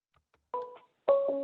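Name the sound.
computer ringing in the background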